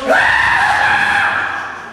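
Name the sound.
voice imitating a person screaming on a fair ride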